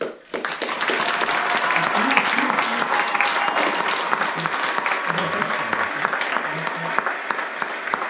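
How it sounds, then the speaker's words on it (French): Audience at a short-film screening breaks into sustained applause, a dense steady wash of many hands clapping for several seconds, with a voice briefly heard over it. "je vous demande de l'applaudir"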